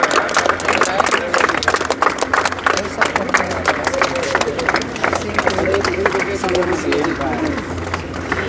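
Audience applause at the closing ceremony of the 27th Haryana state-level yoga competition, a dense steady crowd clapping mixed with cheering and babble that carries on for the whole stretch.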